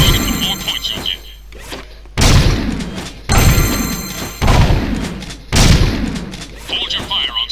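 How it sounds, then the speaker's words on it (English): Rapid gunshots fire at a shooting-gallery target in the video game Jak 2: Renegade, sounding as four or five loud, abrupt blasts spaced about a second apart, each decaying into rumbling game ambience with bright electronic tones between them. "Shoot every time. The faster you shoot at the target, the more points you'll get."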